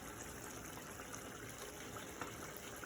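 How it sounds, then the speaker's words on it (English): Tikka masala sauce is poured out over food as part of a shelf-stable emergency meal, a faint, steady gushing trickle with no gaps. "here goes the sauce. I'm going to just pour this all over here."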